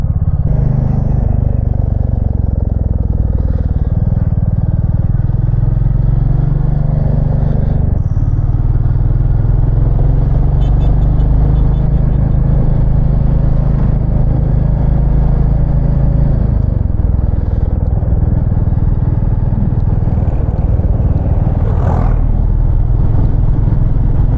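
A Royal Enfield Classic 350 (2025, black) motorcycle engine thumps steadily while riding, a continuous near, loud rumble with wind and road noise throughout.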